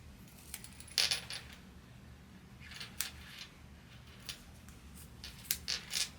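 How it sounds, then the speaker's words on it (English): Scissors trimming the thick fabric seam allowance of a sewn school backpack, giving a few sharp snipping clicks around the one-second mark and again near three and five and a half seconds, faint and close, with no talking. "I'm going to trim this down just around this seam here because it gets pretty thick."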